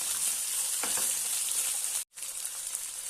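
Steady bright sizzle of potato curry sautéing in a pan, a continuous close hiss with a faint stir scrape, broken by one brief gap before the sizzling resumes.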